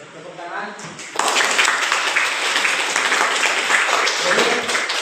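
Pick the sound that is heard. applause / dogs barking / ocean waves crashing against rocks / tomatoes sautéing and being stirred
applause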